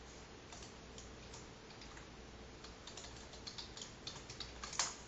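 Quiet, close typing on a computer keyboard as code is written, a steady patter of soft key clicks that grows a little louder and busier toward the end.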